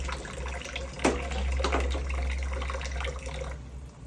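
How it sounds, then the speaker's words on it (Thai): Cups being washed under a running tap at a home sink, with a steady wash of flowing water and a sharp clink of crockery near the start, then a brief clatter midway, all fairly close. "ล้างถ้วย"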